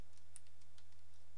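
Typing on a computer keyboard while programming in Java, soft rapid key clicks over a steady low electrical hum, faint and close.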